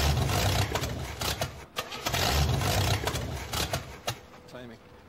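A junkyard-built hot rod engine cranks and catches, then runs with a rough, uneven rumble and a few revs, loud and close.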